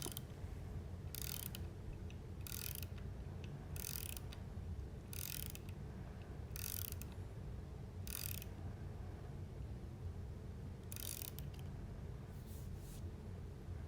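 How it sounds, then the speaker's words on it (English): A ratchet tightens a threaded insert into a wooden table leg for a live edge entryway table, with quiet repeated clicking bursts in short regular strokes over a low background hum. "Then you just put the threaded insert in with a ratchet"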